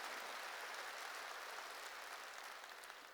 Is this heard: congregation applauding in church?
yes